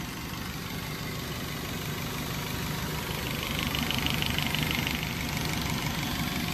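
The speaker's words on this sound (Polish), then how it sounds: "Silnik chodzi równiutko." A car engine idles steadily and evenly just after the engine bay was washed, a continuous low rumble with no talk, swelling slightly louder partway through.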